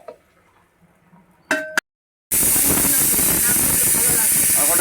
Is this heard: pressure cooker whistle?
yes